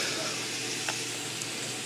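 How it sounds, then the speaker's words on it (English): Steady, close sizzling of bacon frying in a pan, a continuous crackling hiss with a couple of faint pops. "I'm watching that bacon sizzle"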